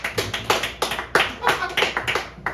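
A game show audience claps in quick, loud bursts of applause, several rapid rounds of hand claps packed close together.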